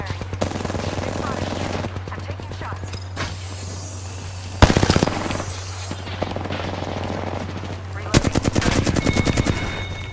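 Rapid bursts of automatic gunfire in the game Apex Legends, loud and close, coming in several sustained volleys separated by pauses, with a steady low hum and scattered game effects underneath.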